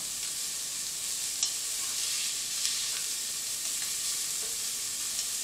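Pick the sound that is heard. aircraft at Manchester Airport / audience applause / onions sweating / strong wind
onions sweating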